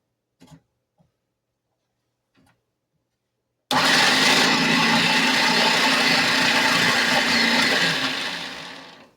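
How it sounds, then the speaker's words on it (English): After a few soft knocks and handling sounds, a food processor motor roars loudly and steadily for several seconds, then begins winding down. "I'm going to go ahead and put this in my food processor"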